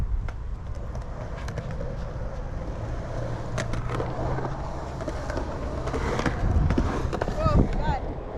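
Skateboard wheels roll and rumble steadily through a concrete skate bowl while the rider carves corners and pumps over the hump, the rolling roar building louder toward the end, with a few sharp clacks.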